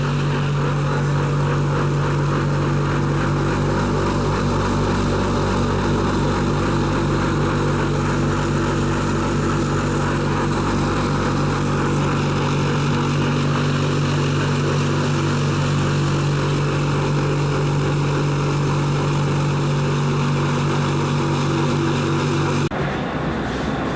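A machine that polishes corn, wheat and rice with bran into animal feed runs continuously, a loud steady droning hum with strong low tones that holds level before cutting off abruptly near the end; no speech.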